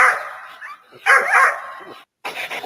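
Splash, a dog, lets out a run of close, loud barks mixed with whiny yips, broken by short gaps and one clean silence before a final burst.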